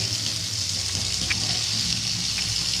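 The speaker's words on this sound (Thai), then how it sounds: "น้ำไหลสะดวกครับ หมดปัญหาน้ำไหลช้าครับ" Water drains quickly down a kitchen sink just unclogged with boiling salt water, making a steady, even rush with no pauses and no talk.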